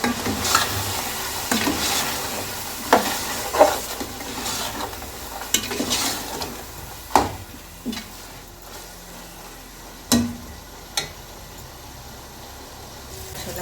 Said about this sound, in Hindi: अब इसको भूनेंगे अच्छे से।